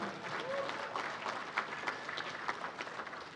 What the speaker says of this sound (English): We can clap for Duke.